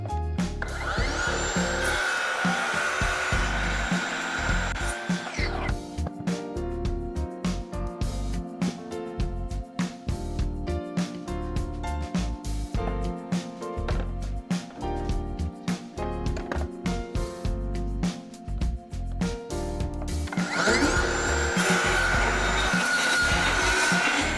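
A power tool cuts cedar wood for a small planter box, whining loudly near the start and again at the end, with rhythmic music filling the long stretch between.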